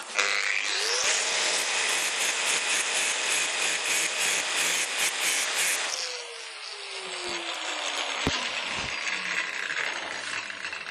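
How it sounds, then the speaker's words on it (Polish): A loud, high-pitched whine of an angle grinder cutting continuously, then the motor winds down and spins lower with sharp clicks. "No to resztę trzeba będzie robić niestety szlifierką."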